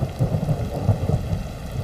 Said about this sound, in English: Rain respects neither power nor courage. It falls on both hunter and hunted.